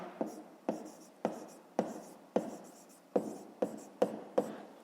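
Pen or pencil writing out a fifth-grade math exercise by hand on paper, sharp strokes and taps repeating in a steady rhythm about every half second, close up, with no talk.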